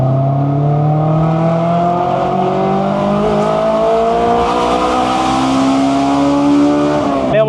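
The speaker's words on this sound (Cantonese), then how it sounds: "我而家2波嗌一次俾你聽" A Honda S2000 engine revs hard in second gear, its pitch climbing smoothly and steadily toward high rpm for several seconds before cutting off abruptly near the end, loud and close with no talk.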